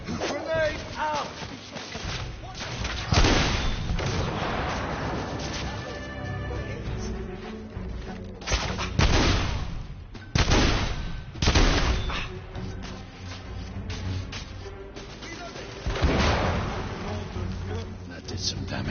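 A grenade explosion and gunfire in a PS4 video game: loud repeated booms and bursts of shots spread across the stretch, with a voice talking over parts of it.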